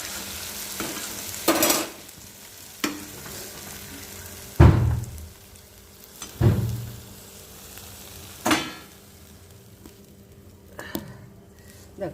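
Mashed eggplant bharta fries in oil under a low, steady sizzle, punctuated by several scraping strokes of a spatula against the pan at irregular intervals.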